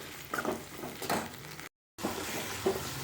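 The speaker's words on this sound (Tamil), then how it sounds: "இது எல்லாத்தையும் நல்லா வதக்கி விடுவோம்." Curry leaves and dried red chillies sautéing in a pan, a steady sizzle with occasional stirring scrapes, close and moderately loud, broken by a brief gap of silence.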